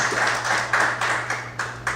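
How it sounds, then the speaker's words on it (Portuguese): Church congregation applauding during a Sunday morning service, a steady wash of clapping from many hands with a few louder surges, fairly close and continuous across the moment. "Você pode aplaudir o Senhor nessa manhã?"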